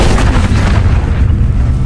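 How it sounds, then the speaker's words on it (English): Heavy, booming gunfire in an action film shootout, a loud sustained blast filling the scene with dense rumbling and no voices. "then shoot her in the eye."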